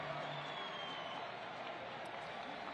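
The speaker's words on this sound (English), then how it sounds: "He receives a loud applause" Stadium crowd at a Suriname versus Guyana Concacaf Nations League football match applauding steadily as an injured player leaves the pitch, a dense, distant wash of clapping and murmur continuing throughout.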